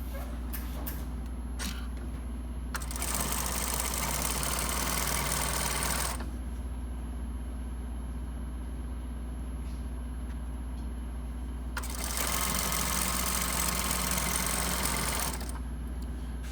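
A sewing machine stitches a shirt side seam with a straight-sewing foot, two long steady whirring runs separated by a quiet pause, close and alone.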